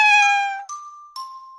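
A little grey cat named Boo gives one clear, high meow followed by two short bright chime-like tones, all close and loud with nothing else around.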